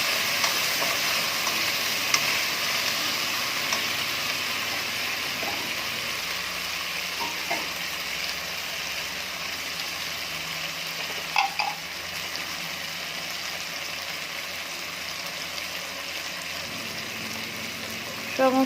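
Ginger, garlic and chili paste being sautéed on low heat for mutton curry, a continuous soft sizzle and fry with occasional stirring scrapes and clinks of a utensil against the pan, steady and close.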